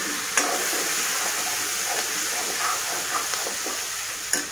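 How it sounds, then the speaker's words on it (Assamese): Onions and turmeric fry in a pan as a dense, continuous sizzle with small crackles and a few sharp clicks of a spoon against the pan, close and loud for a few seconds. "অকণমান ভাজি আছোঁ।"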